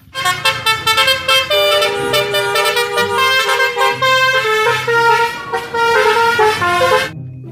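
A melodic multi-tone bus horn plays a tooting tune in repeated bursts, loud and close with short gaps between phrases.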